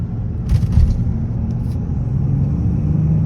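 A Genesis G80 3.3t fitted with DIY intakes accelerates in sport mode, giving a steady low engine rumble that swells slightly through the pull, heard from inside the car with no talk.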